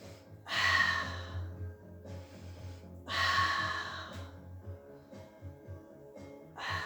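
Heavy breathing from a pilates instructor during a mat session, two loud, long breathy exhales or sighs a few seconds apart, with quieter breaths between them.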